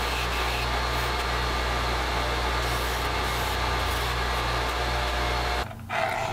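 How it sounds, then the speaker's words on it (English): A belt grinder works a leather edge, making a loud, steady motorized whir with a constant hum underneath that runs unbroken until it cuts off abruptly near the end. "I'll clean it up the rest of the way using the belt grinder."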